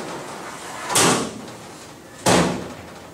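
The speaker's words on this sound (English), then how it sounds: "it's as simple as closing the doors" Doors of an Insinger Commander 18-6 commercial dishwasher being shut, two separate loud thuds about a second and a half apart, each with a short metallic decay, over a steady machine hum.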